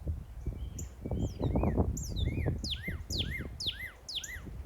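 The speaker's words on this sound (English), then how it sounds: "Northern cardinal, fan favorite." Northern cardinal calling on a Texas coast big tree trail, a series of clear downslurred whistled notes repeating in a steady rhythm over rustling background noise.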